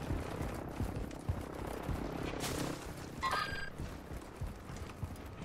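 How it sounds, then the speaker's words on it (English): A helicopter flies in over the demilitarized zone, its rotor and engine a continuous low rumble throughout, with a brief higher tonal sound partway through. "Helicopter coming in."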